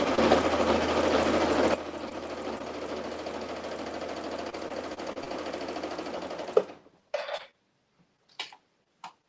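A sewing machine stitches binding onto a T-shirt quilt, running in a continuous fast rattling whir for several seconds nearby, then stopping, followed by a few short clicks and bursts.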